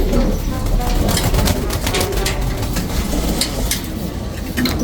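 Pigeons in a loft coo in soft, overlapping murmurs over steady background noise, with occasional rustling and flutters close by and no clear speech.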